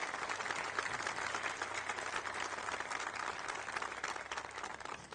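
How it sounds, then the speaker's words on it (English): Steady audience applause fills a university commencement ceremony, a dense, continuous patter of many hands clapping at moderate distance without a break. "I'd like to ask for a round of applause to show our gratitude to the Franciscans of the province of"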